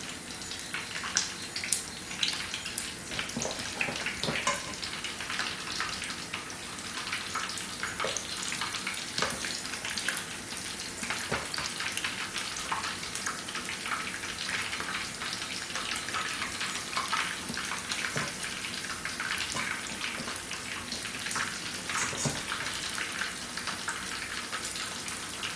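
Shrimp accras fry in very hot oil, giving a dense, steady crackling sizzle with small pops throughout, close and even, with no voices.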